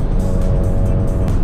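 A Volkswagen MK7 GTI's exhaust, fitted with a straight-through resonator, drones loudly up close in a brief, steady raspy burble.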